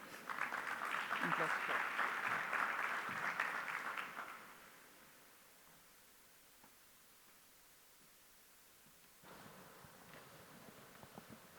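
An audience at an infrastructure panel welcomes a speaker with a burst of steady clapping lasting about four seconds, which fades into a quiet hall before a voice speaks.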